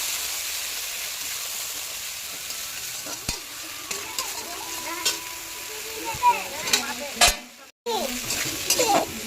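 Spices tipped into hot oil and stirred in a pan for a vegetarian potato and pointed-gourd curry, giving a steady loud sizzle with scraping stirs and a few utensil knocks, then a brief cut before the frying resumes.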